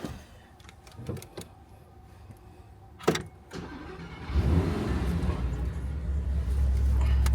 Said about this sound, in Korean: 알려줄게 시동 걸어봐 일단